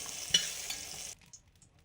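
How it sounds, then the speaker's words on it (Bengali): Lightly fried eggplant sprinkled with salt and stirred in a pan, a soft close hiss with a couple of spatula scrapes, cutting off abruptly to near silence after about a second. "বেগুনগুলো হালকা ভাজা হয়ে গেছে নামানোর আগে একটু লবণ ছড়িয়ে নেড়ে নামিয়ে নিচ্ছি"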